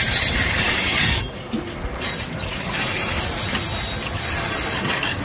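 An Amtrak Cascades Talgo 8 train passes in Vancouver, Washington, with a steady, loud rumble of rail cars and rattling wheels that dips briefly near the start, then continues with no voices.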